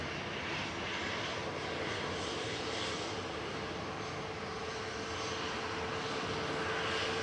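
SunExpress Boeing 737 MAX 8 touching down at Manchester, heard as a faint, steady jet rumble and hiss from a distance, constant across the clip.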